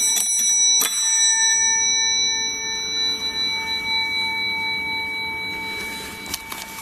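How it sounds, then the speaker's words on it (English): A sharp tap on a bell followed by a long, bright ringing tone that slowly decays, with a few small clicks near the start and end. "I'm going to tap this bell again."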